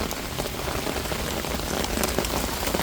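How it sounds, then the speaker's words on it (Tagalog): Heavy rain with hail pours down steadily in Manila, a dense, loud hiss of drops drumming on a surface with no pauses. "Ang lakas ng ulan."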